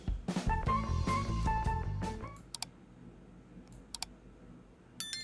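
A few sharp, isolated computer mouse clicks while selecting a photo area in background-removal software, heard after a stretch of music and spaced out with quiet between them.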